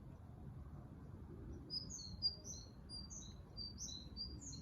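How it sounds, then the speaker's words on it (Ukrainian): A small bird sings a series of quick high chirps and tweets, faint and somewhat distant, over a low steady background rumble. "Ой, пташечка до нас прилетіла, співає нам."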